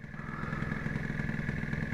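A Suzuki Carna motorcycle engine idles close by with a steady, even putter and a continuous low exhaust drone, unbroken throughout.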